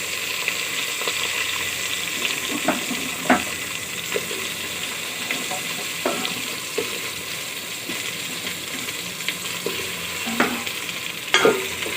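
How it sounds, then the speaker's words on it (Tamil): Drumsticks and softened tomatoes sautéing in a pan for Thanjavur paruppu urundai kuzhambu, a steady close sizzle with intermittent scraping stirs and clinks of a utensil against the pan. "தக்காளி எல்லாம் வதங்கிடுச்சு முருங்கைக்காயை போட்டுக்கலாம்"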